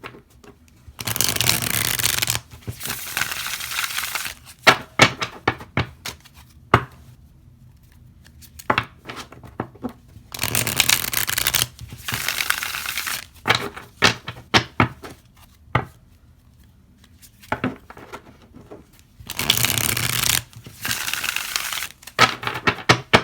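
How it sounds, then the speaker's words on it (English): Tarot cards being shuffled by hand, repeated bursts of crisp riffling and slapping separated by short quiet gaps, close and clear with no talk. "So here's me shuffling."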